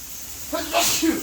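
A single sharp sneeze bursts out close by during a break from preparing marinated beef fajitas for a Blackstone griddle, with a brief breathy hiss around it.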